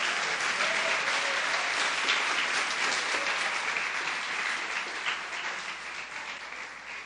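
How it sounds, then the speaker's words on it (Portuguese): A church congregation applauds steadily, dense sustained clapping filling the room at full strength for several seconds before easing slightly toward the end. "Dê uma salva de palmas ao Senhor."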